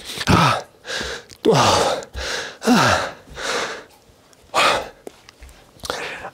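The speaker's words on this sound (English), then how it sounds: "I know y'all probably sick of me breathing heavy, heavy breaths into this microphone" A man breathes heavily into a close microphone while opening a card booster box: six or so loud, gasping breaths and exhales in an uneven rhythm, with brief quiet gaps between them.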